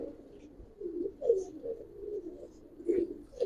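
Giribaz pigeons coo inside a loft in a steady run of soft, low, rolling calls that rise and fall, fairly close, with no voices.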